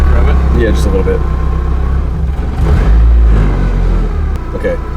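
A Nissan S14 Kouki engine being revved, with quick blips of throttle rising and falling over a rumbling idle, close by, with voices talking over it.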